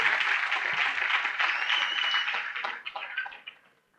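A church congregation applauding, dense sustained clapping from many people that thins into scattered claps and fades out near the end.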